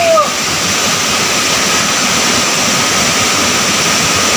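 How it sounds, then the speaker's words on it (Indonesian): A three-tier waterfall at Jambur Latong in Southeast Aceh roars with a steady, dense broadband rush that holds constant and close throughout, with no talk over it. "Air terjun 3 tingkat"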